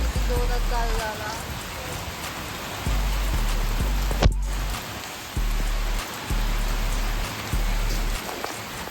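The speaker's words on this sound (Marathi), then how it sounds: "पाऊस किती जोरात चालू झाला" Heavy rain pours down in a steady, dense roar, close and loud throughout, with one sharp knock partway through and a repeating low engine-like hum underneath; a faint voice may be present.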